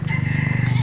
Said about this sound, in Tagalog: manghuhuli kami ngayon ng manok para i-spicy chicken namin